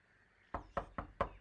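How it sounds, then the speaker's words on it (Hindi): Four sharp knocks on a door, evenly spaced and close by, ring out against near silence. "राजदीप पुत्र दरवाजा खोल"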